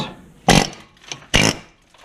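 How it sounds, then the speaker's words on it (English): Two loud, sharp bursts from an Ingersoll Rand air hammer knocking off a Nissan Frontier brake caliper, about a second apart, each a brief rattling blast of metal impacts, close by with quiet in between. "We're going to put the little air hammer on it."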